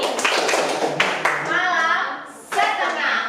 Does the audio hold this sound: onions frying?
no